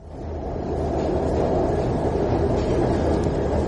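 A loud, steady low rumble of a train running close by, continuous throughout with no voices.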